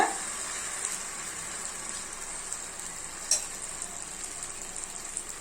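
Carrot malpua batter sizzles in a hot pan, a steady close frying hiss with small crackles and one brief sharper pop, no talk over it.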